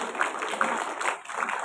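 Seminar audience at a leadership event breaking into applause, a soft, dense patter of many hands, fairly distant and quiet throughout the short burst.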